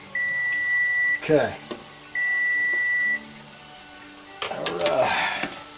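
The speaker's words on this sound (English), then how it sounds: "There's that timer." A kitchen timer beeps in two steady one-second tones while lasagna meat cooks, each followed by clattering kitchen noise and a man's brief spoken word.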